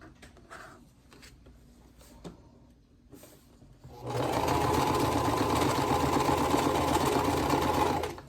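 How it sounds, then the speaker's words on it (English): A domestic sewing machine stitches two quilt block pieces together, starting abruptly after a few quiet handling clicks and then running in a loud, steady, close whirring rattle until the end. "We're just going to sew these two pieces together"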